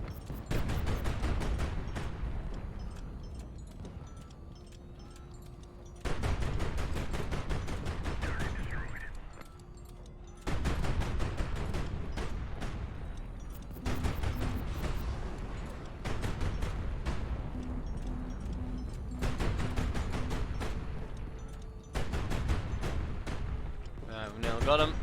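Naval cannons fire in the warship combat game High Fleet, a series of booming gunfire blasts and salvos with rumbling low-end, recurring every few seconds over continuous battle noise while someone talks throughout.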